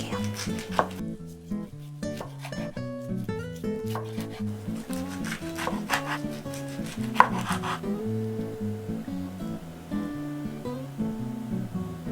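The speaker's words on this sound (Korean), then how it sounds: "적당한 크기로 잘라주요" A knife slices rolled diet kimbap made with basil pot rice, brushed with perilla oil and sprinkled with sesame seeds. The strokes come as steady, repeated chops on a cutting board over soft background music.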